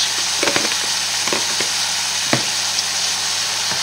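Sausages, lentils, lardons and bouquet garni herbs stirred in a pot, a continuous close sizzle with several distinct spoon scrapes and clacks against the pot, no speech.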